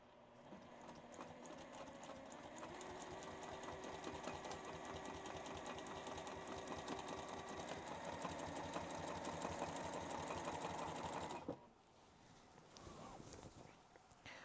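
Sewing machine stitching free motion quilting through a quilt with batting, a steady rapid needle chatter running continuously for about eleven seconds up close, then stopping abruptly to quiet room tone.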